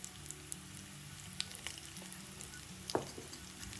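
Turmeric stirred into hot tempering oil in a pan for tomato pulihora gives a faint, steady sizzle, with a brief clink of a utensil near the end.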